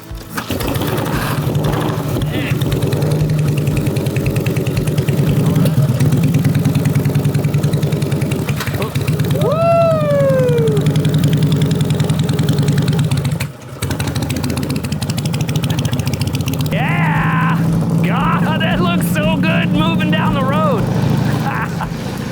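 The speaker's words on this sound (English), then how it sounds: "It's got a quiet engine. Yeah, motor's quiet." A quiet motorcycle engine runs at a steady low idle, close by, for the whole stretch, while people talk briefly over it and a whistle-like tone rises partway through.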